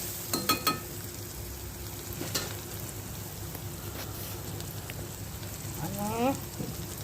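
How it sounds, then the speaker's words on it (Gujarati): Onions and tomatoes sizzle softly in a pan while a spoon stirs them, a few sharp clinks early and a faint steady frying hiss underneath. "એક ચમચથી એને થોડું મિક્સ કરી લેવાનું."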